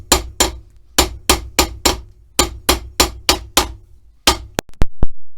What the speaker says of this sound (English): We are done with hammering.